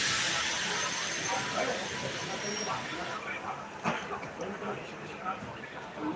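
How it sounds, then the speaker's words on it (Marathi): Inside a morning passenger train from Baramati to Pune, a steady rushing hiss of travel fills the carriage, with faint rattles and voices underneath. "आता आपण ट्रेनमधून प्रवास करत आहोत"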